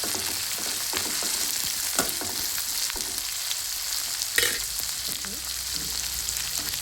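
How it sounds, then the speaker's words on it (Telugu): Green chillies and chopped onion fry in a pan with a steady, close sizzle, broken by occasional clinks and scrapes of stirring; no one speaks. "పచ్చిమిర్చి వేద్దాం. ఆనియన్ వేసేద్దాం. మంచిగా ఫ్రై చేసుకుందాం."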